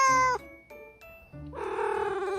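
A cat meows a few times, close and clear, with a longer drawn-out meow at the end.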